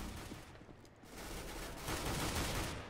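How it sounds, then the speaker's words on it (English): Gunfire in the video game CS:GO, a dense, fairly faint stream of rapid shots that swells louder toward the end, with no talk. "That gun shoots so far."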